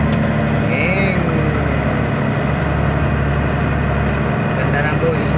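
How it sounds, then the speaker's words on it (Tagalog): The engine of a fishing boat out at sea for blue marlin runs as a steady, loud, low drone, with people talking over it. "Ganda ng boses ng makina."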